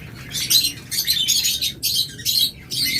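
Caged pet lovebirds, budgerigars and Java sparrows chirp in loud, close, rapid bursts, with short breaks between bouts of high twittering, and no voices.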